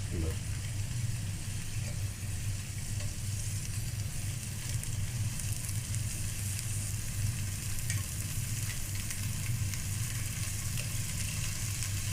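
Palak paneer ingredients fry in ghee over a low flame with a continuous, even sizzle and occasional stirring, steady and close throughout with no talk.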